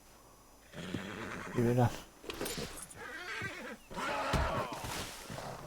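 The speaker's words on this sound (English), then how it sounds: "Me han dejado aquí el caballo a huevo." A horse neighs in the video game Red Dead Redemption 2, a loud whinny early on followed by snorts and jangling tack, while someone speaks Spanish over the sounds.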